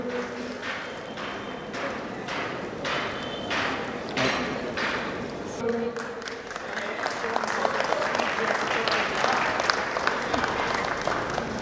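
Sustained applause from a crowd gathered for a school centenary celebration honoring former teachers, dense and steady throughout, swelling slightly louder toward the end.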